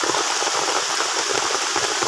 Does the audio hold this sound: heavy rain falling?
yes